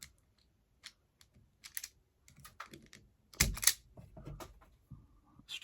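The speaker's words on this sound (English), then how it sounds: "this CK wire stripper, a wee while ago, and I've just never got around to using it, but look how quickly that strips that" A CK wire stripper bites into and pulls the sheath off electrical cable during a new-build downlight installation, producing quiet, sparse clicks and a brief louder snip and scrape, heard close in an otherwise silent room.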